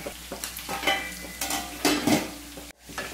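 Chicken frying in a pan for Manjali chicken biryani, with steady sizzling broken by repeated scraping stir strokes from a spatula, close and fairly loud, and a sharp clatter near the end.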